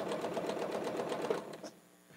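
A sewing machine chain piecing quilt squares runs in a steady close whirring stitch for about a second and a half, then stops, leaving a quiet room.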